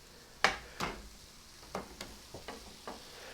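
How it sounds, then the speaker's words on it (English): Bananas frying in hot, foaming melted butter in a pan give a soft background sizzle broken by several sharp crackles and spits spread irregularly over a few seconds; no one talks. "Once this butter has melted and the pan is hot, in go the bananas."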